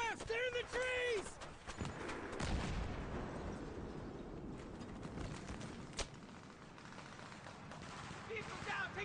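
Enemy ambush gunfire in the Battlefield 3 campaign on PS3, a dense fusillade of rapid shots and bursts echoing near and far, with shouted voices breaking in at the start and a sharp crack standing out midway.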